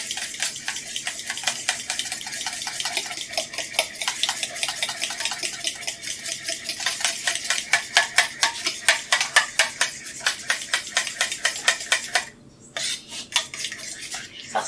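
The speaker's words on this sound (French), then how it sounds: "On va mélanger énergiquement" A utensil beating a beeswax and lime water mixture vigorously in a bowl, fast regular scraping clinks building in intensity, then a brief pause and a final burst.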